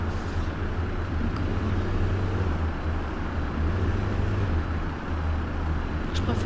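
Bus engine in the OMSI 2 bus simulator game, a steady low droning rumble that holds evenly and fairly loud throughout, with no voices over it.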